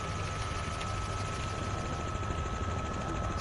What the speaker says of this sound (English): I don't like the stupid ass fucking helicopter